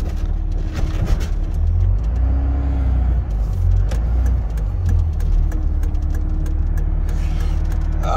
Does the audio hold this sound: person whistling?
no